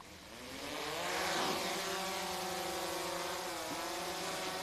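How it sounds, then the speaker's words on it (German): Camera drone flying over Lower Franconia, a steady airborne motor drone with a slowly shifting pitch that swells slightly and then holds, heard alone without any voices. "Die Drohne kann nur rund 20 Minuten fliegen"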